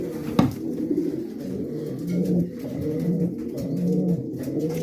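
Racing pigeons coo in low, steady, overlapping murmurs that run throughout, with a single sharp click near the start and no talking.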